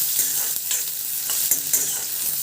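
Onions for a small-fish charchari are stirred in a hot pan as they fry toward a reddish brown, with a spatula scraping and clattering rhythmically over a constant loud sizzle, close up and without talking.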